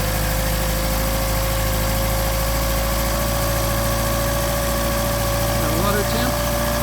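Mercedes 190SL engine with Solex carburetors held at a manual fast idle while cold, giving a loud, steady, even drone with a constant hum and no change in pace.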